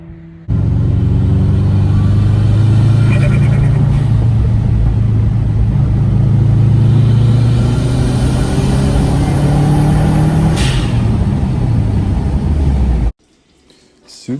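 A Subaru fitted with new coilovers drives along a snowy road, its engine and tyre rumble loud, close and steady for about twelve seconds before cutting off abruptly.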